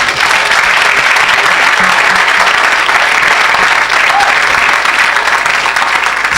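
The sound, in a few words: congregation applauding and cheering the Lord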